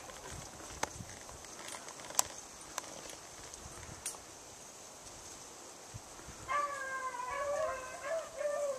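Hunting dogs break into drawn-out howling partway through, at a moderate distance, after a quieter stretch of outdoor ambience with scattered sharp clicks.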